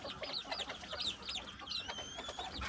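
Bantam chicks a little over one month old cluck and peep in short, high chirps, scattered and close, with a few longer trilling calls among them.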